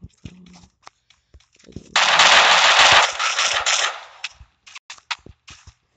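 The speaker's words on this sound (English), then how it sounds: "Why are you just shooting at me?" Video game gunfire erupts in a loud, dense automatic burst lasting about two seconds, framed by scattered sharp clicks and thuds before and after.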